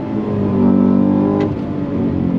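A 2024 Cadillac CT5-V Blackwing V8 accelerating on throttle, heard from inside as a loud, steady engine roar that rises slightly in pitch, with a brief gear-change blip partway through.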